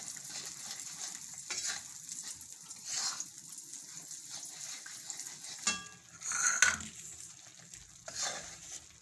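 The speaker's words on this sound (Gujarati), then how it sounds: "તો ગોળને આપણે સરસ ઓગળવા દઈશું." Jaggery melts in a pan while being stirred, a soft sizzle under intermittent scraping strokes and a few metallic clinks, close and fairly quiet.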